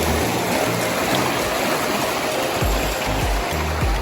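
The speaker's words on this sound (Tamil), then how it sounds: "தண்ணி பார்த்தீங்களா எவ்வளோ வேகமாக வருதுன்னு." Fast-flowing stream water in a village setting rushes in a loud, continuous broadband wash, with low thumps and bumps from handling noise mixed in.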